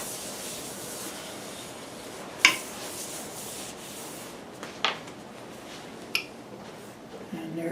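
Bush oil finish being rubbed by hand onto a large segmented wooden bowl built from many thin wood strips: a soft, steady rubbing hiss with a few sharp clicks and taps between strokes, close and quiet, no talk.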